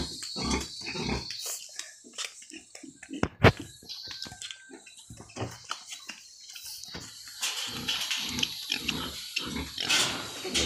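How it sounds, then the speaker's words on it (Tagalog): Pigs grunting and oinking in a hot pen as they look for water, a run of close, choppy snorts and squeals, with a sharp knock partway through and louder, busier noise toward the end. "ang baboy"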